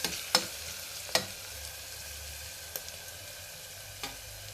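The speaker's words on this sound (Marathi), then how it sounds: "तो पण 2 मिनिटं फ्राय होऊ द्यायचा आहे चांगला।" A dal palak tempering fries in a pan with a continuous soft sizzle and a few scattered spatula scrapes and taps, close by, no voices.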